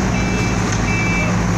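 A cement mixer truck at a concrete-pouring site gives steady repeating reversing beeps over loud engine rumble, close by and continuous, with no talk.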